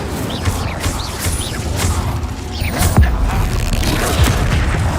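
Confringo and Incendio spell blasts burst in the Hogwarts Legacy video game, loud close booms and crackling impacts over a dense rumbling combat bed, with a few sharper hits standing out.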